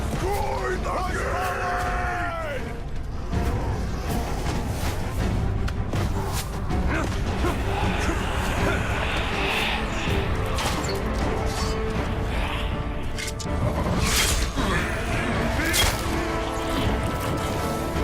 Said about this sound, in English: Destroy the gate!